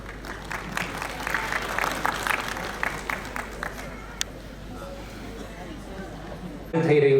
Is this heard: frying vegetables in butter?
no